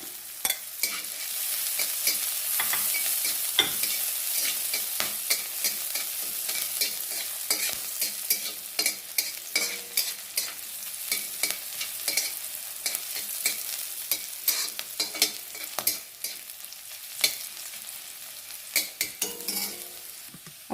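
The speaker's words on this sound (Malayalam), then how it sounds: "ചുവന്നുള്ളി നന്നായിട്ട് മൂക്കണം" Shallots fry in oil in a pan with a steady bright sizzle throughout, punctuated by frequent clicks and scrapes of a spoon stirring against the metal, close up and with no talking.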